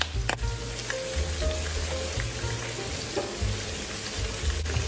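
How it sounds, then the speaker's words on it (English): Provolone chicken boats sear in a hot pan, giving off a steady, dense sizzle and crackle heard up close with no talking, broken by a couple of faint clicks. "I just kind of give them a tiny bit of a sear for about 3 or 4 minutes."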